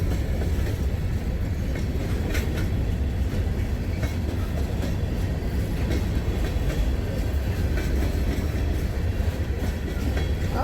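Long freight train rolling past on CSX track, steady rumble with rhythmic wheel clatter and faint squeals, close and continuous throughout without voices.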